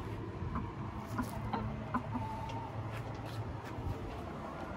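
Chickens cluck softly in short scattered bursts over a constant low background hum, fairly distant.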